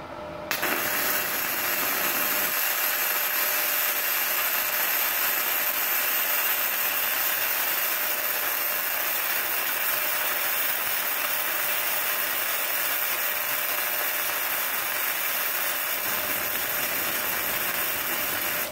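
A 450-watt gasless MIG welder lays a bead with a loud, steady hiss and crackle that begins suddenly and sizzles continuously for almost twenty seconds, with no talking over it.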